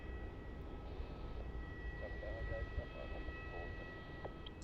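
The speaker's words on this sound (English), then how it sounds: "The 330-300 off to Manila." A Philippine Airlines Airbus A330-300 taking off at Melbourne Airport, a broad steady jet roar heard from a distance, with a voice talking faintly underneath.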